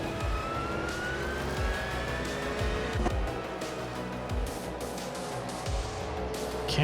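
Race cars in a racing video game, among them a Porsche 911 GT2, roar in a continuous engine drone, with rising and falling whines as the cars pass and shift gears, and no talk.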